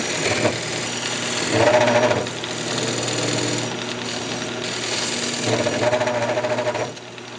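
A wood lathe spins while a square nose scraper cuts into a custom speaker box: a steady whirring motor hum with a gritty scraping noise that swells and eases in waves, and no voices.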